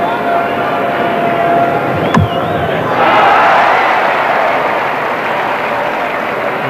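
Home crowd at a 1978 World Series Cricket match between Australia and the West Indies, a broad, steady roar of distant cheering that swells midway, with a brief tonal sweep passing through.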